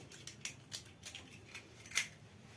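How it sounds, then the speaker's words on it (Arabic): Two eggs cracked one after another for a two-egg sponge cake batter, giving a few short, sharp taps and cracks followed by a brighter crack near the end, close and fairly quiet with no talking. "هنكسر البيضتين كده اهو"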